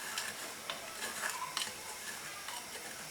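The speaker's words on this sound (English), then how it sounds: "So you stir it." A spoon stirs white okro soup in a pot, giving soft scraping and light clinks over a faint steady hiss, close and quiet with no talk.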